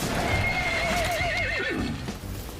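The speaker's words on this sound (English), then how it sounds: "Your trusty Diamond Horse is an invaluable companion, summoned by pressing L1 and selecting the whistle command." D-Horse, the companion horse in Metal Gear Solid 5, lets out one loud, close whinny that wavers and trembles before trailing off, with faint hoof clopping underneath.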